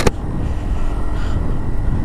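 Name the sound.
Aprilia SR160 scooter accelerating with throttle opened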